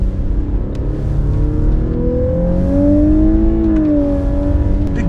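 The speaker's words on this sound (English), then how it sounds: "And in the lower gears, in Sport Plus, it does sound quite powerful" Lexus LC 500h engine pulling hard through the lower gears in Sport Plus mode, a steady rising drone that climbs in pitch and swells louder, heard from inside the cabin with no talking.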